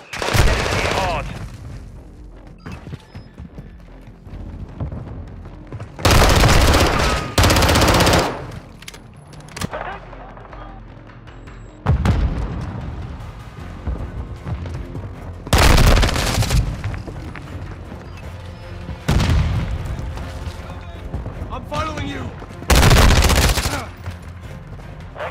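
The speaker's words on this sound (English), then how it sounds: "I'm taking fire." Loud bursts of automatic gunfire in a Call of Duty battle erupt in several separate volleys, each a few seconds long, with quieter stretches between them where voices speak over background combat noise.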